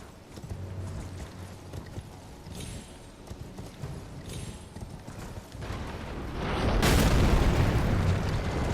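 Horse galloping in the Elden Ring video game: steady rhythmic hoofbeats over a low rumble, swelling into a louder, denser burst of noise near the end.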